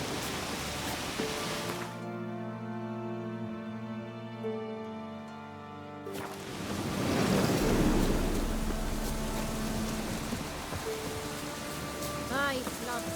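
Steady rain hisses in The Witcher 3, a broadband wash that drops out briefly before returning, swelling heavier midway with a low rumble, while music-like tonal layers run underneath.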